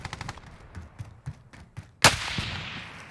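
A sniper rifle fires once in the Warzone video game, a sharp loud crack followed by a rolling echo tail, after a run of softer rapid gunfire pops and footsteps.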